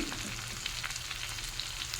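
Prawns frying with onion and garlic over a low flame in a pan, a soft continuous sizzle with faint crackles, fairly quiet and without voices.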